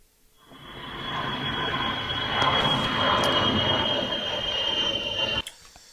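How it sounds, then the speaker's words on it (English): An American spy plane flying overhead: a loud, steady engine roar with a whining tone swells in, holds for several seconds and then cuts off abruptly. "Wow, for a spy plane, it's certainly bloody noisy."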